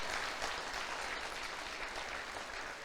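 Steady, dense applause from a church congregation, a continuous wash of clapping with no pauses.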